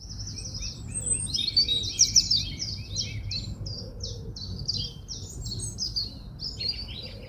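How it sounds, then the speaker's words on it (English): Morning birdsong at a carp fishing lake, a steady run of bright chirps and twittering phrases from nearby birds, continuous over a low outdoor rumble with no talking. "Been constant bird song since about 4:30."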